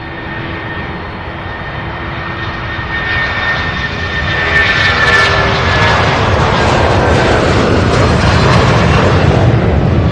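An airplane takes off at Louisville's SDF airport, a loud, continuous engine roar that swells and stays strong, with a high whine running through it.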